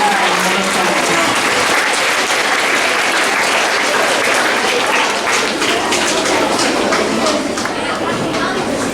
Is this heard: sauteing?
no